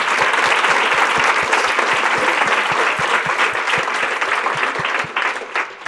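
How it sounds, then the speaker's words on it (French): Audience applause at a Desjardins grant award ceremony, dense and steady clapping from a sizable indoor crowd, sustained for several seconds and starting to thin out at the end. "Je pense que ça vaut une bonne main l'applaudissement."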